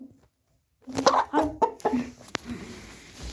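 A few chickens cluck and murmur close by in short, uneven bursts after a moment of quiet, with a sharp click partway through.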